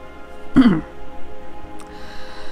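One short, harsh cough bursts out near the start, then only quiet room noise with a faint rustle follows.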